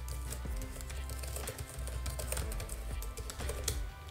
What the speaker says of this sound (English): Another thing that I really think is important is the way the keyboard types.